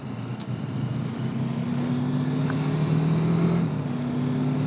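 A TVS Apache RTR 310 motorcycle cruises along with a steady, moderately loud engine drone and low exhaust hum, holding an even pitch with a slight rise partway through, under wind noise and without speech.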